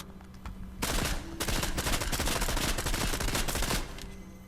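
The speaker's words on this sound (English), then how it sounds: "I'm just gonna shoot this." Shotgun fire in the video game Fortnite: a dense burst of loud, rapid blasts that runs for about three seconds, close and alone with no talking.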